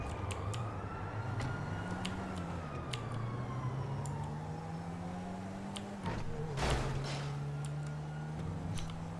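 A police siren wails in GTA 5 as officers chase the player, its tone rising and falling steadily under continuous game noise, with a brief louder burst near the end.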